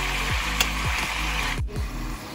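Mutton sizzles and fries in a pan with salt, red chili powder, coriander powder and whole spices while being stirred, giving a steady close crackle with several scraping strokes and no talking.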